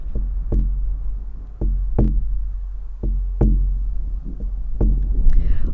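A drum is struck in a slow heartbeat rhythm, with deep, resonant thumps that fall in loose pairs and ring briefly over a low hum. There is no talking.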